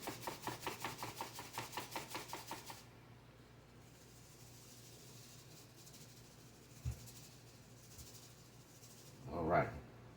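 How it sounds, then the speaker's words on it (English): Closed seasoning container of salt-free seasoning shaken by hand, giving a quick run of rhythmic, gritty rattles at first, then quiet with a couple of faint knocks and a short rustle near the end. "All you gotta do, shake it up."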